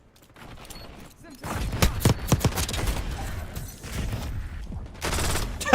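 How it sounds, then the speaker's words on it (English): Rapid shotgun blasts from incendiary shotguns in the video game Black Ops 6 crack in an irregular burst of sharp reports with mechanical clicks, moderately loud against low background noise. "Yeah, incendiary shotguns"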